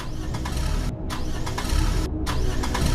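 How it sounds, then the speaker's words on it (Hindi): A car engine cranks repeatedly without catching, producing a loud, continuous whirring drone with rhythmic pulses and two brief breaks. "लेकिन गाड़ी तो स्टार्ट ही नहीं हो रही है"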